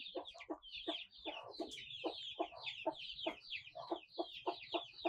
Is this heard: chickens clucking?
yes